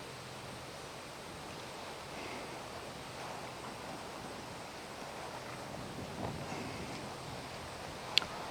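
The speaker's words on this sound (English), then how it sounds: "Turned a little bit cool and windy this morning" Steady wind rushes outdoors on a cool morning in Idaho among flowers, a soft continuous broadband noise with no voices, ending in a brief gust or buffet against the microphone.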